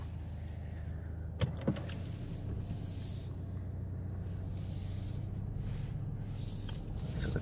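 Auto-leveling motors in the headlights of a 2023 VW Golf R moving the lamps up and down at start-up, a faint whirring in several soft swells over a steady idle hum, with a couple of sharp clicks early on.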